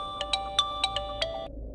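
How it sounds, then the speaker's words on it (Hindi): A phone ringtone plays as a quick run of bright electronic chirps, about six short tones over a second and a half, loud and close in a quiet room before it cuts off. "मुझे ये फोन कॉल अटेंड करना होगा"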